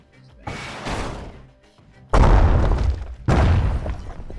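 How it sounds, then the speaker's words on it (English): Special-skill blast from the calamity cannon in the game Bastion: a few heavy, booming detonations, each hitting hard and rumbling out before the next, with a loud low thud at the second burst, and no voices. "This was the special skill of the calamity cannon."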